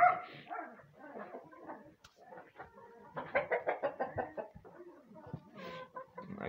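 Chickens clucking and squawking close by, a busy run of overlapping calls with a louder burst of rhythmic clucks midway.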